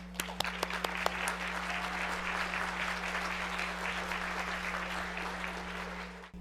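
An audience at the Growing Global 2022 event in St. Louis applauds to welcome a speaker, with steady clapping from a fairly large crowd lasting about six seconds, starting with a few sharp individual claps and then fading slightly at the end.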